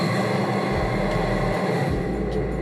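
A maglev train runs past with a steady, smooth whooshing rumble and a low droning undertone that shifts slightly in pitch, continuous and fairly loud with no talk.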